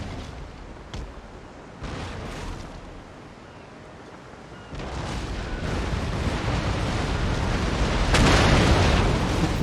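Naval battle explosions in Napoleon: Total War, with bomb ketches setting ships alight: repeated booming blasts and crackling bursts that swell into a dense, loud rumble of fire and detonations toward the end.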